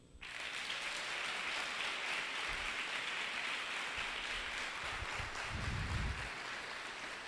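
Steady congregational applause at a church gathering during a sermon, dense even clapping sustained throughout at moderate distance, swelling slightly near the end.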